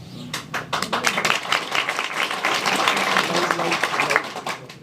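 A political rally audience breaks into dense, rapid applause that swells and holds steadily, close and loud, with voices mixed beneath the clapping.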